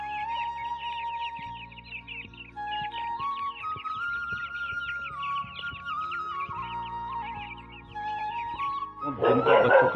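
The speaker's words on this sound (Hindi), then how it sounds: "वो भौंक रहा है।" A dog barking somewhere behind a hillside village home, faint and distant beneath steady bird chirping and a sustained tone, ending in a louder burst.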